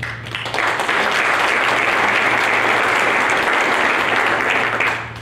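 An audience claps together at a community day-of-action event, steady dense applause starting after a brief quiet moment and holding loud and even for about five seconds before tapering off.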